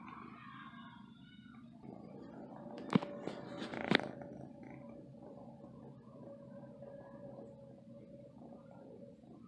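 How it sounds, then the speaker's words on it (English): A kitten's soft, continuous low purr rumbles close by, with a couple of brief sharp rustling knocks partway through. "Can you hear her purring?"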